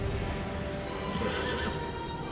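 A horse in the game Pathfinder: Wrath of the Righteous gives a loud, wavering neigh over a dense rumbling backdrop of game ambience.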